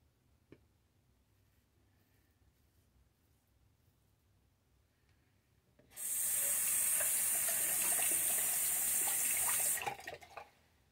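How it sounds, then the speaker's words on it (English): Tap water runs loudly onto a King C. Gillette safety razor blade for a few seconds after a quiet stretch, then shuts off with a few drips, close and alone. "Let's wet that blade first."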